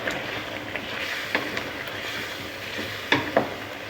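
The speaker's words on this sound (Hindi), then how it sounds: "टमाटर का पेस्ट जो है वो उसमें चिकन अच्छे से भुन रहा है।" Chicken and peas fry in tomato paste over medium heat, a steady close sizzle with occasional spoon scrapes and a couple of sharper knocks against the pot.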